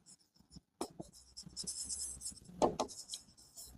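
Marker or chalk writing a journal entry for outstanding salary on a classroom board in an accounts lesson: steady scratchy strokes in short bursts with brief pauses, close and fairly quiet, with no talk over it.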